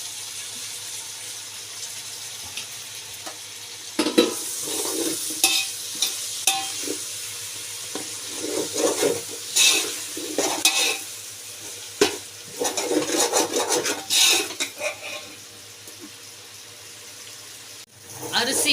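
Tomato, coriander and mint being sautéed in a pan for ghee rice, with soft sizzling, intermittent stirring scrapes and clinks of a utensil against the pan, fairly close and without talk.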